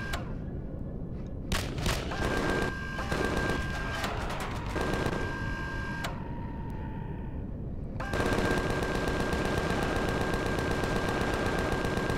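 Enemy gunfire in the space survival game Empyrion Galactic Survival, a dense barrage of rapid shots and blasts with a steady tonal hum, growing louder and more continuous in the last few seconds.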